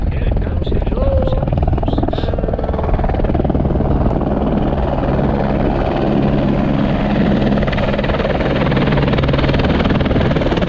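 A helicopter flies past in the Himalayas, its loud continuous rotor chop and engine drone filling the scene close by and steady throughout, with no break in the noise.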